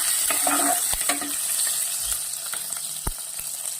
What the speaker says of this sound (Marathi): हिंग, हिरवी मिरची आणि हे छान ढवळून घ्यायचं